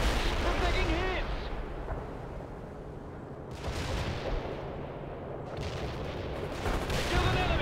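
Battlefield in World in Conflict: rumbling artillery blasts and bursts of gunfire rolling on in heavy, dense waves, with radio voices talking over the combat.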